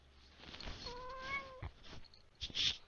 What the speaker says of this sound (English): That's my little cat.